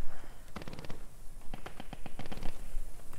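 Bursts of gunfire in the World War II shooter Post Scriptum, with several rapid volleys of shots crackling at mid distance, in irregular clusters across the clip.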